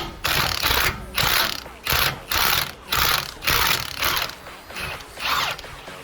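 A ratchet wrench loosens the rear shock nut on a 1998–2002 F-body Camaro: loud, close, rhythmic bursts of rapid pawl clicking, about eight strokes with brief gaps between them, no talking.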